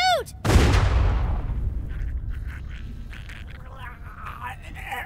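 A single loud gunshot in Telltale's The Walking Dead Season 2 video game, a sharp close crack with a long decaying echo, followed by quieter background sounds and faint game audio.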